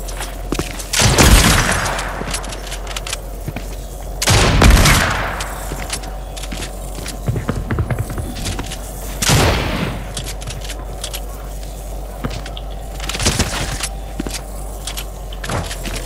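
Gunfire in an online shooter video game, several loud bursts of rapid shots spaced a few seconds apart, with quieter game sounds in between.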